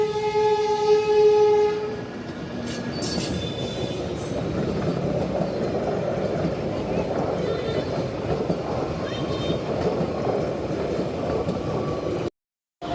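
A train rolls past near Pavarpeta railway station, a steady broad rumble of wheels and carriages that runs nearly the whole time, with a short horn-like tone near the start and a few faint squeals before it cuts off.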